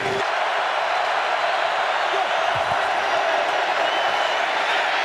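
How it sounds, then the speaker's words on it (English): Packers fans roaring at Lambeau Field during a Bears at Packers game, a dense, loud, continuous wash of crowd noise with faint cheering and clapping mixed in. "Rodgers asking for more crowd noise. They're already in full throw"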